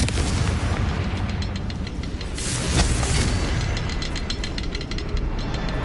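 Confringo blasting spell in the Hogwarts Legacy video game, heavy booming explosions over a thick, continuous rumble, with one louder burst near the middle and crackling debris around it.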